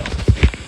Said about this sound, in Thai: มีแต่เสียงเท้านะ